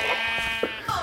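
Sheep bleat in Minecraft during a Turf War match on the Mineplex server: one short, clear bleat, close and loud, over a steady bed of game sound with no talking.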